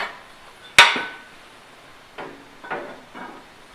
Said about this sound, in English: Let me remove my work rest.